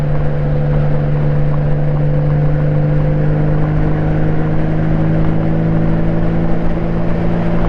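A Honda Goldwing motorcycle on a commute ride, with a steady, loud engine drone and rumble under wind noise, heard continuously and close without any talking.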